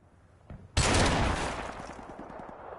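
A single loud revolver shot in a video game cracks out alone, followed by a decaying rumble and echo with faint rattling tail.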